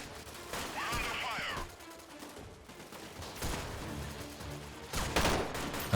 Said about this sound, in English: Who's actually shooting me?